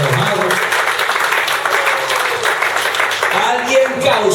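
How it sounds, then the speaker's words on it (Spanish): A church audience gives a strong round of applause, a continuous wash of clapping under a preacher's voice that carries on through the start and end. "Vamos a dar un fuerte aplauso a Cristo, no estamos enojados."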